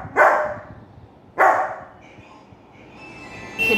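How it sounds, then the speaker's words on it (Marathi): A pet dog near a house gate gives two loud, sharp barks about a second apart, close by, followed by quieter background noise and no speech. "इथे का भुंकत आहे माहितीये का?"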